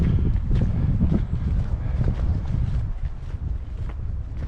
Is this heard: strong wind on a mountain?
yes